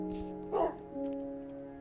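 A dog in a video game lets out one short, sharp bark, briefly rising over a steady hum of tonal game music that plays throughout.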